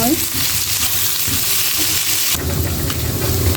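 Potatoes and spices fry for an egg curry, a steady close sizzle and crackle that runs through the clip and turns denser and louder partway in, with faint stirring and no talk.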